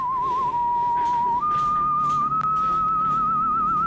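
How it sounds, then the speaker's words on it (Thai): A wavering, eerie whistled melody from the music game Incredibox, steady and clear, holding long notes that step upward, with faint rustling behind it and no talking. "ถือว่าตัวนี้ เป็นเสียงผิวปากที่น่ากลัว"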